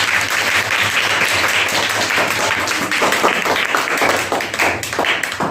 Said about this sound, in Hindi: इनके लिए एक जोरदार ताली हो जाए भाई